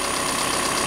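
Engine of a 2021 Volkswagen Crafter van with an intermittent charging fault, running in a steady, close, even hum with a faint rhythmic pulse, no voices.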